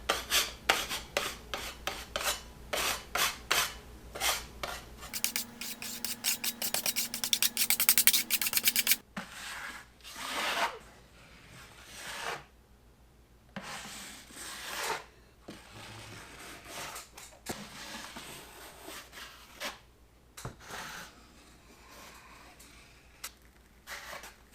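A drywall patch is scraped and rasped down where the joint compound stands high. The strokes come in quick, close bursts, then slower, scattered rubbing and scraping with pauses between.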